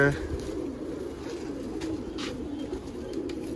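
Pet pigeons kept on a rooftop loft in Haripur, Hazara, cooing softly and steadily at close range against a dull background rumble, with faint scattered chirps.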